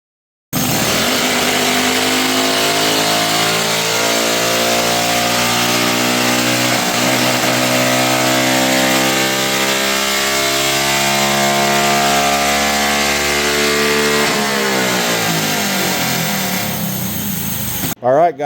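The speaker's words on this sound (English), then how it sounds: "we're gonna get this engine warmed up and see what we can do" An engine fitted with a Racer's Pro Quip ported cylinder head revs on a dyno, a loud sustained roar that climbs steadily in pitch through a long pull and then drops off near the end.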